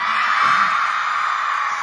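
A large concert crowd in Shanghai shouts and screams in one sustained, loud roar that fills the whole stretch without a break.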